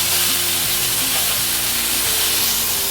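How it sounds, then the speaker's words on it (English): Loud, constant sizzling of onions frying in a hot pan, a dense crackling hiss with a low hum underneath and no talking. "I love that sizzle."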